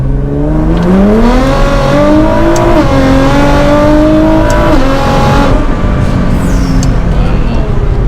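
A Nissan GT-R R35 accelerates hard in second gear, heard loud from inside the car as a continuous engine roar that climbs steadily in pitch, with a brief dip partway through.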